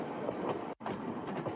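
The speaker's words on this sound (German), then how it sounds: "Arya und Jörg nehmen die transsibirische Eisenbahn." A passenger train on the Trans-Siberian Railway rumbles along with a rolling clatter of wheels on track, loud and close, broken by one very brief dropout partway through.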